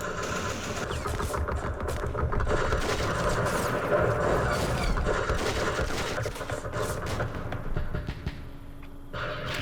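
Gunfire and mortar fire from the Vietnam-era wargame Campaign Series Vietnam, a dense, continuous battle din of overlapping shots and blasts, loud and steady throughout with no voices.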